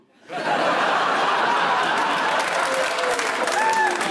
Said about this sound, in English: There's women clapping that